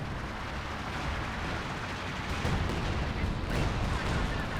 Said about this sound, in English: Allied artillery detonated it.